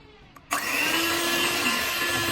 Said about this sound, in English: we're gonna use a hand mixer